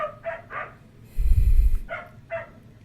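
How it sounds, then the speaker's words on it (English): Dogs bark in a few clear, moderately distant bursts, pausing once as a loud low rumble passes, then barking twice more. "Can you hear my dogs?"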